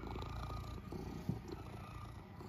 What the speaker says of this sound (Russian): и мурчит лежит